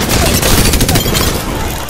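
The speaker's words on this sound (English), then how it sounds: "I am taking fire, friends." Rapid gunfire rattles in a battle royale video game, loud and continuous, with overlapping shots forming a close, heavy barrage that tapers slightly toward the end.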